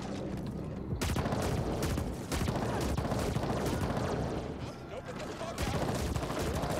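Dense bursts of gunfire from the sci-fi shooter The Ascent, loud and nearly continuous with brief gaps, layered with a voice talking over the shooting.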